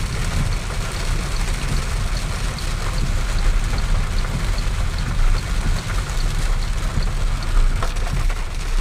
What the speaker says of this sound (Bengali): কি অন্ধকার হয়ে বৃষ্টি নামছে